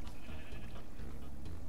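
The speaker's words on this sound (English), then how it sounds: "is that a sheep?" A sheep bleats in a Minecraft-style video game, a short bleat close by over steady game background noise, with no talking.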